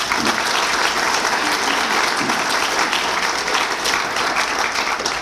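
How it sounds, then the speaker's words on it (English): Luncheon attendees at a leadership graduation give a steady round of applause, a thick, continuous clapping that stays loud and even from start to finish. "Would you give yourselves a hand of applause?"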